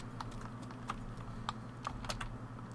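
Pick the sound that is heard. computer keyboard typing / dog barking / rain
computer keyboard typing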